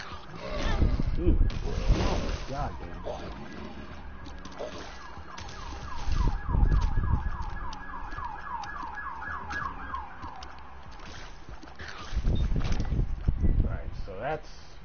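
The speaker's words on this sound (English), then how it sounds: "Sirens. Wouldn't be a stream without" Emergency vehicle sirens wail outside with a repeating rising and falling yelp, moderately distant, running steadily beneath a voice talking and traffic rumble.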